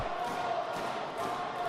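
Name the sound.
wrestling crowd cheering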